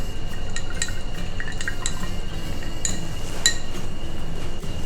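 A spoon stirs an Old Fashioned made with 12-year-old rum and orange in a glass, giving light, close clinks and soft liquid swirling over a steady background.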